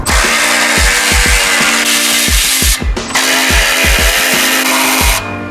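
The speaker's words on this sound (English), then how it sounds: "these Milwaukee cordless ratchets rip on a full battery" A Milwaukee cordless ratchet removes exhaust bolts on a Honda Civic Si, whirring loudly and close in repeated short pulses, its pitch stepping up and down as the bolts spin free.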